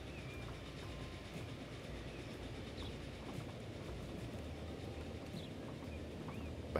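Train wheels roll over rails in Transport Fever 2, a steady rhythmic clatter and rumble at moderate volume with faint bird-like chirps and no speech.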